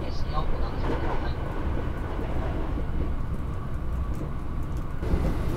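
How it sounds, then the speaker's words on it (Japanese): The Thunderbird limited express train runs along the shore of Lake Biwa, heard from inside as a steady low rumble with rhythmic rail clatter, while a voice speaks over it. "列車はしばらく琵琶湖の湖岸を走ります。"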